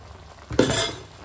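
Chopped amaranth greens (note shaak) drop into hot oil in a pan, setting off a sudden loud, close sizzle that surges and then holds as a bright steady hiss, with a faint scrape of a utensil and no talking.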